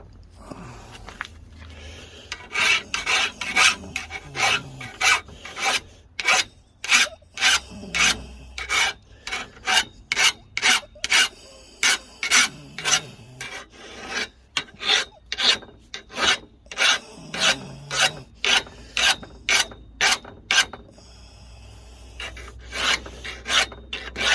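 A hand file rasps along the blade of a pair of edging shears in even, rhythmic strokes, about two per second, close up, with brief pauses between runs and no talking.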